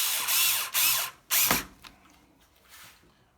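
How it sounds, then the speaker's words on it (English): A power driver with a #1 bit drives screws into a pedalboard to mount a 1/4-inch audio jack, giving two loud whirring bursts and a shorter third, followed by softer ratcheting clicks, close up with no talking. "One screw in and the second screw."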